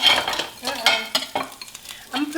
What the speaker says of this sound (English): a half stick of butter in here. And start cooking my little onions.